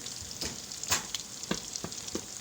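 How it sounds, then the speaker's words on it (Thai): Pork ribs frying in oil over low heat, a quiet continuous sizzle broken by several sharp pops and crackles spaced irregularly, close by and with no voices. "มาทอดกันดีกว่าครับทอดซี่โครงหมู ไฟอ่อนครับ"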